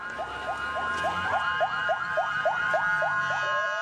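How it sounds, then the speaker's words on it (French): Ambulance sirens wail in a fast, repeating rising sweep, about a dozen cycles in a row, loud and close, with a low rumble of street noise beneath and no talking. "Et les ambulances tentent tant bien que mal de se frayer un chemin."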